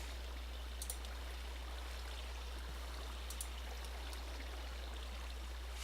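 Flowing water in the Minecraft video game gives a soft, continuous rushing stream sound with a few faint higher splashes, heard alone under a steady low hum and no speech.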